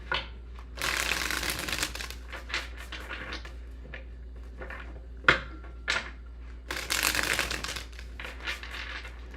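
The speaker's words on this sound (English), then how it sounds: "Last shuffles for Virgo. Actually, 2 more shuffles." Tarot cards shuffled in several close-up bursts of riffling and flicking, separated by short pauses, with one crisp tap partway through.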